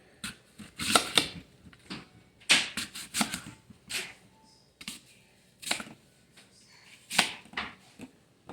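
A knife cuts up a dense, crisp Granny Smith apple, giving a series of sharp, close crunching and slicing bursts at an irregular pace, with quiet pauses between cuts.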